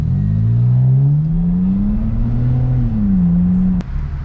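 BMW E60 car engine revving hard and close, a loud sustained growl that rises in pitch and holds before cutting off abruptly near the end.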